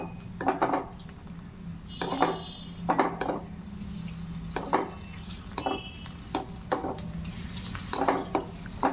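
Raisins or nuts fry in a spoonful of ghee in a pan while a spoon stirs them, giving sharp metallic clinks over a low, steady sizzle. No one speaks.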